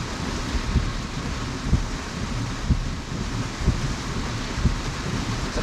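Heavy rain pours down in a steady, dense hiss, with faint low thumps recurring about once a second.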